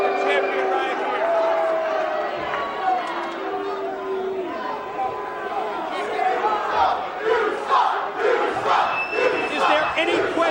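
A capacity, standing-room-only wrestling crowd at the Impact Zone roars and chants continuously during Destination X 2005, with an announcer speaking over the noise.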